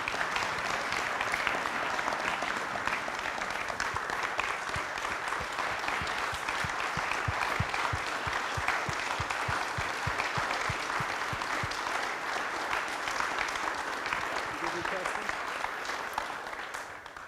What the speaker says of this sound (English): Round of applause for District Governor Tim Ryan.